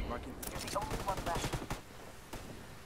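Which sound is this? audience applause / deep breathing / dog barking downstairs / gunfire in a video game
gunfire in a video game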